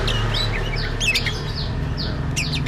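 An oriental magpie-robin sings in a run of bright chirps and quick whistled phrases, close and clear over a steady low background hum, with no talking.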